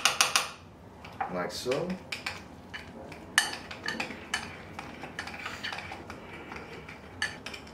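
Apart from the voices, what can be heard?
mixing food in a bowl with a spoon, pink salt added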